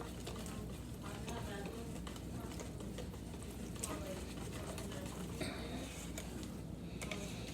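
Thin manicotti batter being stirred in a bowl, a steady soft scraping and swishing that runs continuously and fairly close.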